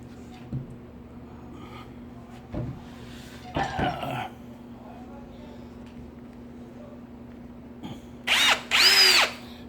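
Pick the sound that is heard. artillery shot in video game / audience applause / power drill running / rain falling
power drill running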